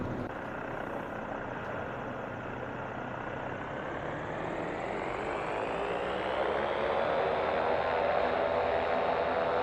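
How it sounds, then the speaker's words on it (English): Simulated Diamond DA40NG piston engine heard from outside the aircraft in X-Plane 12, a steady propeller drone with rising harmonics that grows a little louder in the last few seconds, with no talking over it. "let's listen to the engine sounds from the outside"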